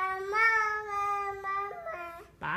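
A young child imitates a sheep's bleat with a sung, vowel-like "ba ba" voice, two drawn-out tonal calls close to the microphone, the first long and steady, the second shorter and wavering, ending on a rougher rising cry.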